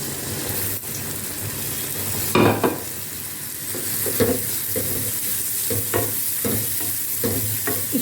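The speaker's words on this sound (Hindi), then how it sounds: "प्याज डाल देंगे इसमें।" Onions sizzle steadily in a hot pan while a spoon stirs them, adding scraping and clattering strokes at intervals over the continuous frying hiss, close up and with no voices.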